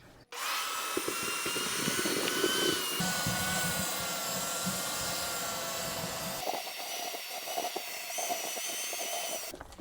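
A shop vac runs steadily, sucking old sand out of a pool sand filter with a loud continuous hiss and roar that shifts in tone partway through as the load changes.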